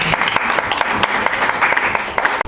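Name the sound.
loud applause from the audience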